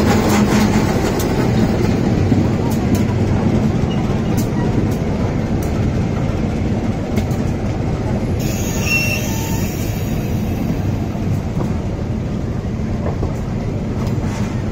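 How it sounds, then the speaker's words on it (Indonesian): Train rolling slowly over a repaired section of broken rail, a loud continuous rumble of wheels and carriages close by, with clicking joints and a high metallic wheel squeal rising partway through. "Jalan keretanya masih perlahan ya, kawan."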